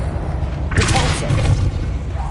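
A Repulsor spell cast in Hogwarts Legacy lands as a loud magical whoosh and thud, a sudden bright burst that swells and lingers briefly over a low rumbling game background.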